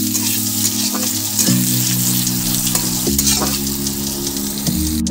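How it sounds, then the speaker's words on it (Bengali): Onion fries steadily in hot oil after garlic, a continuous close sizzle broken by regular scraping stirs of a spoon in the pan, with no voices. "পেঁয়াজটাকে একটু ভালো করে ভেজে নেবো।"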